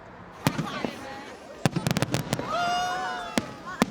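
Fireworks display at Alexandra Palace in London: scattered sharp bangs and crackling bursts in uneven clusters, with a rising whistle, heard at a distance over crowd noise.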